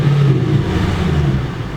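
A Mercedes C55 AMG engine rises on a light throttle blip, a steady mid-low drone that swells slightly and holds close and fairly loud throughout, with no voices.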